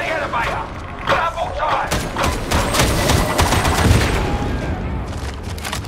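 Dense co-op gunfire in the Warhammer 40,000 Darktide game, a continuous fusillade of overlapping shots and booms with mechanical clatter, loud throughout, while voices shout commands over it.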